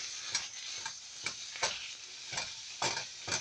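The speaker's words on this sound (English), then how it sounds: "now when I cook ground beef, I like to use a wooden spoon" Ground beef frying in a pan with a steady sizzle, stirred by a wooden spoon that scrapes and taps in irregular strokes every half second or so, close and moderately loud, with no talking.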